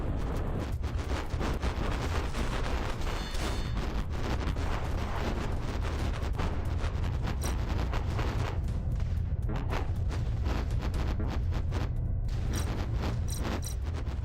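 A capital ship blowing up in the space combat game A-Spec First Assault: a dense, continuous roar of booming blasts and heavy fire rumbling through the whole stretch, loud with crackling bursts layered on top, no voices.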